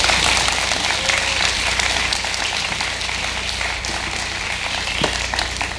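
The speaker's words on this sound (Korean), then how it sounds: "여러분 큰 박수로 환영해 주시기 바랍니다" Loud, sustained audience applause welcoming guests onto a stage at a book-sharing cultural event, a dense wash of clapping over a low hall hum with occasional sharper claps.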